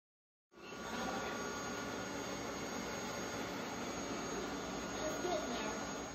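An electric mixer whips egg whites for nougat, giving a steady, loud whirring hum that holds constant from start to finish with no talking over it.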